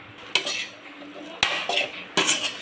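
Bread dropped into hot oil in a frying pan, making three distinct clattering, hissing bursts of contact and sizzle spaced about a second apart, close and fairly loud.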